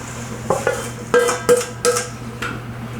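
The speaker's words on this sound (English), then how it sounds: "we are going to stir this constantly until it is at a rolling boil" Sugar stirred into a pot of boiling jam made from frozen fruit, with a few distinct scraping clinks of a spoon against the pot over a low steady background hum.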